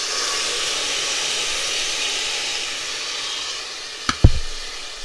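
Soaked dal is tipped into a pot of golden fried onions, a steady broad sizzle of hot oil filling the scene before a brief splash and bump near the end as the lentils hit the pan.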